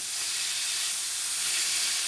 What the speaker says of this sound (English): start to sizzle a bit more